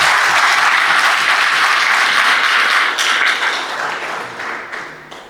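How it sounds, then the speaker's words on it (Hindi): An audience at a real estate business training session claps loudly in sustained applause that gradually fades toward the end. "एक बार जोरदार तालियां"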